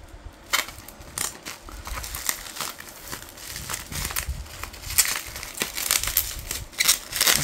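A bubble-wrapped package is torn open by hand, giving close, irregular bursts of crinkling, crackling plastic and tearing, with no speech.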